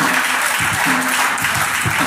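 Steady applause from a crowd at a church wedding ceremony, dense clapping throughout with a faint tonal hum underneath.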